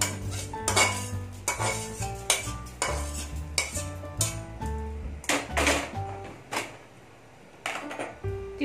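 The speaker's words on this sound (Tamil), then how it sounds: "இப்பவே நம்ம எடுத்து கொட்டிக்கலாம். இது ஒரு தாம்பாளத்துல கொட்டிக்கணும்." Roasted sambar powder spices are tipped and scraped onto a metal plate, giving close metallic clinks and scrapes in an uneven rhythm before the sound drops off near the end.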